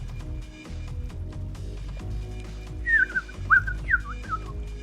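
A person whistles in imitation of a bird, a few rising and falling chirping phrases near the mic in the second half, over a steady low background hum.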